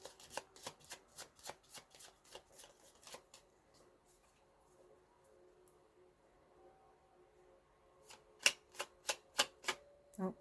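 Tarot cards being shuffled, quick crisp riffling flicks in a fast rhythm at first, a quiet pause with faint background, then another brisk burst of shuffling close by.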